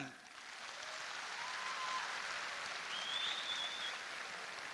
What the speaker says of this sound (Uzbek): ayollarimizga bitta chiroyli qarsak bo'lsin